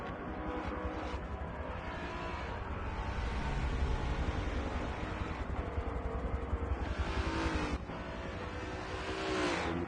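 A sport touring race car accelerates hard out of a corner during a qualifying session, its engine droning loud and steady with rising revs and gear changes, close to the microphone.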